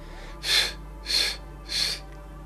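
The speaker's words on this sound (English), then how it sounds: "3 quick exhales through our mouth." Three quick, breathy exhales pushed out through the mouth during a group energy session, evenly spaced about half a second apart, close and clear over a quiet background.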